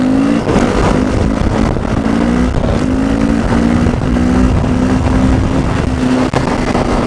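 Honda CRF450SM supermoto motorcycle held in a loud, steady high rev during a wheelie, a sustained engine drone with a slightly rising and wavering pitch, close and continuous with no talking.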